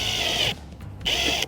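Power drill driving a screw into the exterior of an RV rig: two short, loud whirring bursts close by, separated by a brief pause, with no talk.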